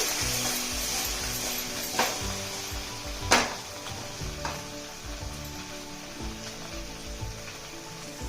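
Okra frying with curry leaves in a pan while being stirred: a continuous close sizzle broken by a few sharp scraping stirs, the loudest one about midway, with no voices.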